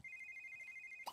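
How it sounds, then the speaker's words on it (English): Phone ringing in The Sims 3, a single thin steady electronic tone held for about a second, faint and alone, with a short blip at the end. "excuse me, someone's phone is ringing."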